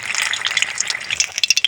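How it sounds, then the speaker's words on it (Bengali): Pumpkin and tomato fritters fry in hot oil in a wok, giving a steady, dense sizzle with crackling pops that sharpen toward the end. No one speaks. "তো ভাজাগুলো একদিকে হয়ে গিয়েছে, উল্টে দিয়েছি উল্টো করে ভাজার জন্য।"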